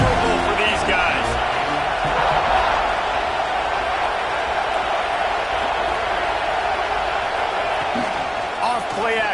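Steady roar of a stadium crowd at a college football game in College Football 26, loud and continuous throughout with faint whoops and a commentator-like voice mixed underneath.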